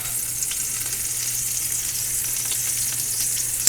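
Chicken pieces frying skin side down in hot olive oil, a dense, even, close sizzle that holds steady throughout without pauses.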